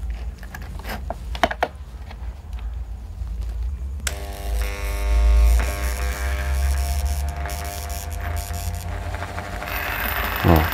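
A RYU RDG 3.2 mini die grinder, run from an extension cable, hums and whines steadily at speed with a low buzzing drone and no talking over it.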